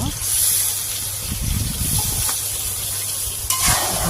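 Chicken meat sautés in a pan for a bhuna curry, a close sizzle with stirring scrapes and a brief clatter near the end, while a person talks over it.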